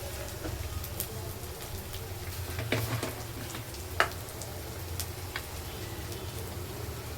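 Masala and yogurt sizzle and fry in a pan, a steady soft crackle with occasional sharper clicks and a small clatter as it is stirred, close by with no talking.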